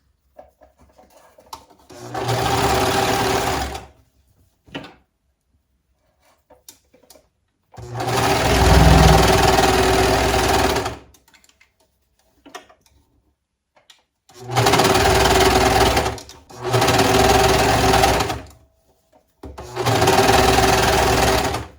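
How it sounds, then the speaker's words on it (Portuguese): Sewing machine stitching a sleeve hem through lining and main fabric of a women's long tuxedo, five loud close bursts of rapid stitching separated by pauses filled with faint fabric handling. "a gente vai costurar a borda da barra da manga, unindo forro e tecido principal"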